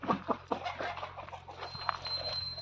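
Pure desi country chickens on a poultry farm cluck quietly in short, scattered bursts, fairly distant and faint against a low background hum with a thin high whine.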